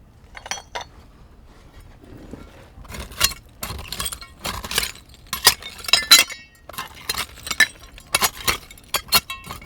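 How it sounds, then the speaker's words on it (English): Broken old glass soda bottles, including an H.O. Kruger bottle and one from the Grand Forks Bottling Works, clink and rattle against each other in a long-forgotten cache. The sharp clinks come in irregular clusters and bursts, close and fairly loud, with no speech. "All this broken glass."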